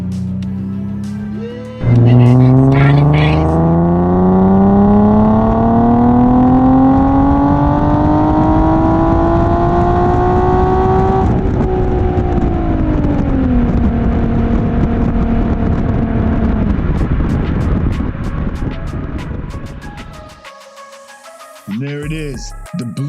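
An Infiniti G37 with a Z1 exhaust and tune makes a third-gear pull from 2,500 rpm to redline. The engine note climbs steadily and loudly, then shifts and fades off. No one speaks.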